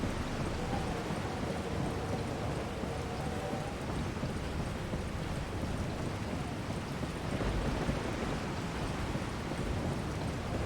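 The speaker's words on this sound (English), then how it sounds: "It's raining again." Steady rain pours down in a continuous hiss with a low rumble beneath, constant and enveloping with no voices, in the video game Resident Evil 4.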